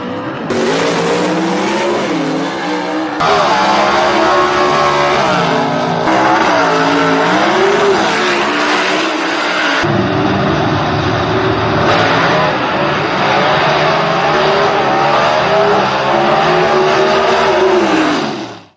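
Gasser race cars launch down a drag strip, loud roaring engines in a few long bursts that cut in and out abruptly, nearby and dominating the whole stretch.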